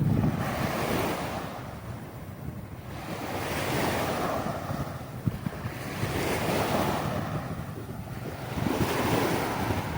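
Sea waves rolling onto a beach in steady wind, rising and falling surges of surf every few seconds under constant rushing wind noise against the microphone, with no voices.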